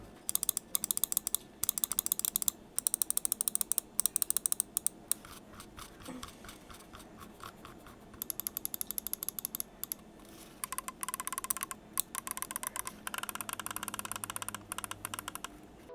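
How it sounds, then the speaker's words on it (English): Clicks from the micro switch buttons of a Pulsar Xlite V2 gaming mouse, sharp and close, come in quick rhythmic bursts and rapid runs separated by short pauses, with no voices. "The side buttons are apparently micro switches from what I've heard."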